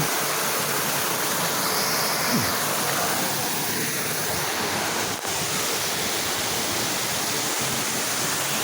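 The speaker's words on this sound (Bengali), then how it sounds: "এইটা হচ্ছে আরেকটা ঝর্ণা, সাফিনা পার্কের পূর্ব পাশে অবস্থিত এই ঝর্ণাটি" A fountain on the east side of Safina Park in Godagari, Rajshahi, sends water splashing in a steady, unbroken rush of close white noise that holds at an even level throughout.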